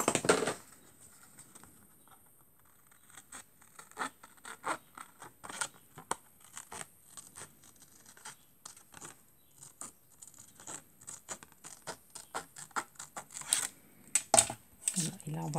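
Scissors cutting through card stock for a handmade Father's Day card, a quick series of faint, close snips and paper rustles with quiet gaps between them.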